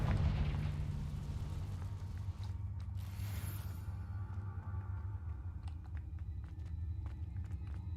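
A Confringo fire spell bursting in Hogwarts Legacy, a deep rumbling blast with low roar that settles into creaking, clattering debris and sharp small impacts, fairly close and with no talk over it.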